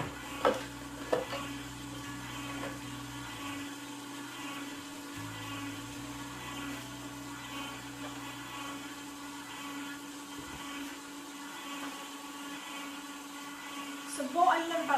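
A Juico Uno juicer grinding apples and greens runs with a quiet, steady low hum and faint crunching, a deeper motor drone dropping in and out, with soft clatter near the end.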